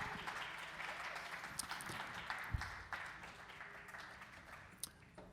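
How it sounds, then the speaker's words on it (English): Applause for the Bossa Boys band at a student music recital, moderately quiet and steady with scattered clapping throughout and one sharp knock partway through. "one last big round of applause for the entire band"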